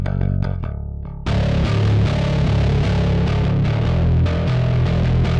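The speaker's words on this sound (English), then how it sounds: "the Smasher bass distortion" Music with a heavily distorted, fuzzy bass line from a bass distortion plugin: a few clean plucked notes, then a thick, gritty distorted sound kicks in loudly and sustains.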